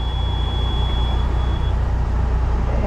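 Heavy farm truck idling near a dump pit with its brakes released as it creeps slowly forward. The diesel rumble is loud and close, and a thin steady whine runs partway through.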